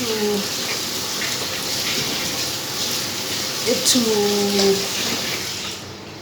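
Water runs steadily from a tap as hands are washed, giving a constant splashing hiss with faint tonal sounds over it.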